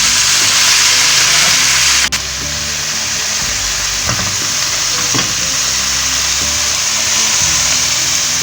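Okra drops into hot frying masala with a sharp clatter, then sizzles loudly and steadily in the pan. A few faint stirring scrapes cut through the continuous frying hiss.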